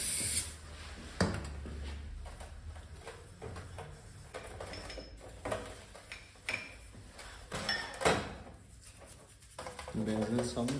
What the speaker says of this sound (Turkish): Balata spreyi kullanıyorum artık.